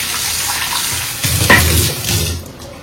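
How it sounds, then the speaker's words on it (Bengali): Water poured from a vessel into a pot of meat cooking on the stove, a short splashing pour that swells in the middle and fades out after about a second, heard close and without talk. "জল দিয়ে নিই।"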